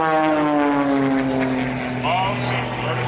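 An aerobatic airplane engine drones loudly and continuously during an airshow maneuver, its pitch sliding downward as it passes, with a voice briefly heard over it.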